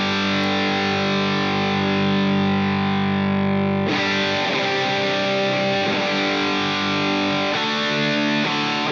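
Electric guitar run through a Headrush Glorious overdrive with the drive turned fully up. It plays a thick, saturated sustained chord that rings for several seconds, then moves into busier distorted strummed phrases, loud and close, with no voices.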